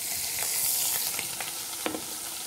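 Parmesan is stirred into courgettes in a hot pan, giving a brief, steady sizzle with a few soft scrapes and one sharper knock of the utensil.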